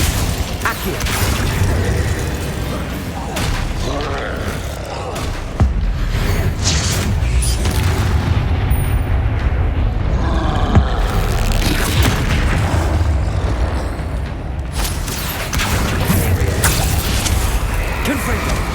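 Confringo spell explosions go off repeatedly during a Hogwarts Legacy video game fight, heavy booms and bursts mixed with whooshing spell effects and mechanical clatter, while a voice talks throughout.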